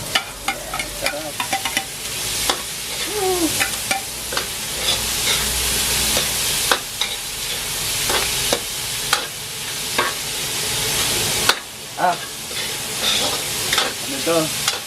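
Beef innards sizzling steadily as they are stir-fried in a pan, a constant frying hiss broken by frequent clinks and scrapes of a utensil against the pan, with no voices.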